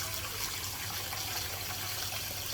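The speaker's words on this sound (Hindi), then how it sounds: "ये जी इसके लिए पानी भर लें पहले," Tap water runs steadily into a dog's water bowl, a continuous broadband gush with no pauses, close by and fairly loud, with no talking.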